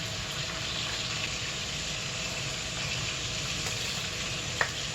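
Sausages for Dublin coddle sizzle in a pan with a steady, close, even hiss that holds throughout, broken only by a single small pop near the end and no talking.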